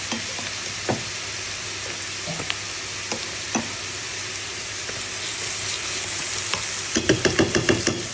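Garlic frying in a pan while Egyptian fatta with meat is being made, a steady loud sizzle with occasional stirring clicks and a burst of scraping taps near the end, with no voices.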